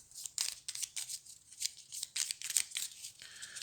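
Game cards from The Loop board game being shuffled by hand make a string of quick papery swishes and flutters in uneven bursts. The sound is close and moderately loud, with no talking.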